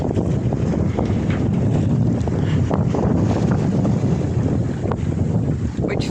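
A sailboat under way in calm seas on the passage to the Canary Islands, with steady loud wind rushing over the microphone and a soft wash of water along the hull, no voices.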